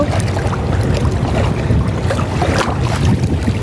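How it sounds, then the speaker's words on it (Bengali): A large ship passing on the Padma river, heard as a steady, loud low rumble of engine and water with wind buffeting the microphone throughout, no voices present. "ওই যে বন্ধুরা দেখতে পাচ্ছেন জাহাজটি যাচ্ছে, বিশাল জাহাজ"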